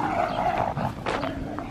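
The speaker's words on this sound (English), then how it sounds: "The dogs say good morning." Dogs call out in the morning with drawn-out, fairly loud vocal sounds that rise and fall. Two or three distinct pulses stand out, and no one speaks.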